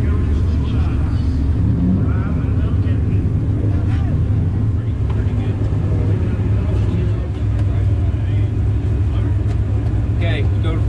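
Race car on a hot lap at Deep South Speedway during intermission, its engine droning loud and steady throughout from a close, onboard position with no pauses.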